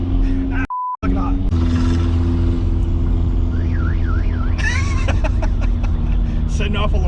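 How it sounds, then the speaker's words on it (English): A car alarm sounds inside a Nissan D21 Hardbody through steady engine and road noise, with a short beep and a warbling, chirping siren pattern repeating near the end. "Setting off alarms and shit."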